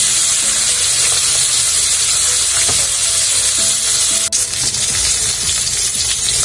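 Chicken pieces for cacciatore fry in hot oil in a pan, giving a loud, steady sizzle with occasional crackles and a few light clinks of utensils, no talking.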